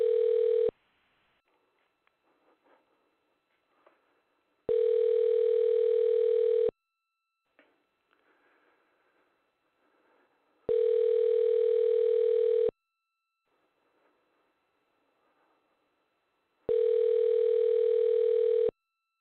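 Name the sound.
telephone dial tone during call on radio show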